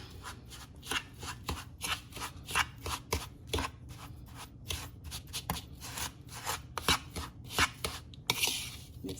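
Seasoned riblets being mixed, with a run of irregular wet rubbing and shuffling strokes, close and moderately quiet, with no talking.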